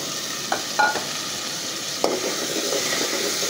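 Taro and a rohu fish head sizzle in a pan while being stirred, a steady frying hiss broken by a few sharp scrapes and clinks of the utensil.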